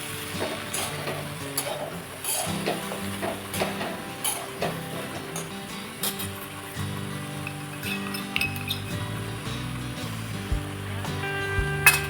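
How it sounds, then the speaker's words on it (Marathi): Cut potatoes being stir-fried in a pan for soybean rice, with a low sizzle under frequent clinks and scrapes of a spoon against the metal pan, close by and without talk. "कट करून घेतलेला बटाटो इथं मी टाकत आहे. आता हे छान असं परतून घ्यायचं आहे."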